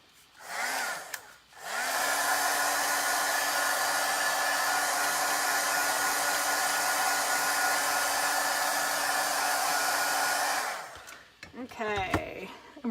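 A heat tool blows steadily for about nine seconds, setting chalk paste with a loud, even, close whir that starts and stops abruptly, with brief handling noises at either end.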